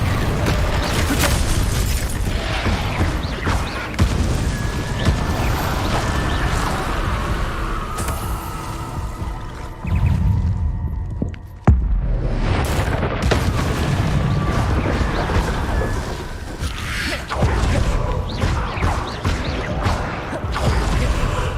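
Repeated loud booming blasts from Confringo spells in the Hogwarts Legacy video game, dense and continuous over heavy combat noise with several sharp bursts.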